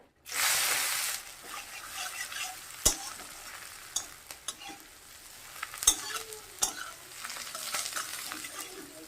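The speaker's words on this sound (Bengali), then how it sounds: "শুকনো লঙ্কাটা দিয়ে দিচ্ছি কালো জিরা দিয়ে দিচ্ছি পেঁয়াজটা দিয়ে দিচ্ছি" Onion going into hot oil with dried chilli and black cumin: a loud initial burst of sizzle settling into steady frying, punctuated by sharp clicks and knocks of stirring.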